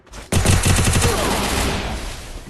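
Loud, sustained burst of rapid automatic gunfire in a video game, starting abruptly and rattling on continuously without voices.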